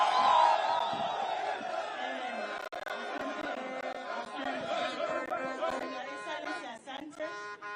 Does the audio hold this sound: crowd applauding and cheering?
yes